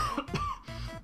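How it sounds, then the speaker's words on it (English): A few close, harsh coughs in quick succession, loud and rough, with no talking. "my cough is much worse than normal"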